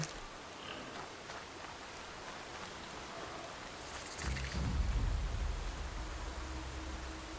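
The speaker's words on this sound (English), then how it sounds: "And there's the rain." Steady hissing rainfall from the video game Horizon Zero Dawn, a broad continuous wash of drops at a low, even level, with a deeper rumble swelling briefly partway through.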